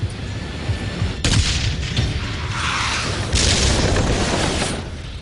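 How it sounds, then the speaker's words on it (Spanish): A heavy boom as an anti-tank shot hits a T-54 tank's turret, followed by a second deep blast, with a broad rumbling roar sustained between and after the impacts. "El segundo disparo alcanza la torreta del tanque enemigo."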